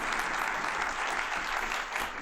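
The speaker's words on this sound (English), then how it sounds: "let's give these folks a round of applause, please." An audience applauds steadily for a group of panelists at a university technology event: dense, sustained clapping from a crowd, fairly near, with no speech over it.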